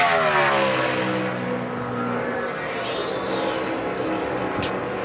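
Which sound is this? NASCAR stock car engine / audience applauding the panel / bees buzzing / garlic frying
NASCAR stock car engine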